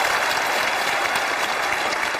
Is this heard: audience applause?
yes